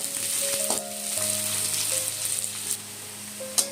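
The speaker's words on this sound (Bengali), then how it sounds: "দিলাম একটা কুচিয়ে কেটে রাখা পেঁয়াজ এবং 2টো গোটা রসুন। এগুলোকে কয়েক সেকেন্ডের জন্য নেড়ে চেড়ে নিয়ে ভেজে নেব।" Chopped onion and two whole garlic cloves frying in a pan for mutton curry, a steady close sizzle with light stirring clatters and a sharp scrape near the end, no voices.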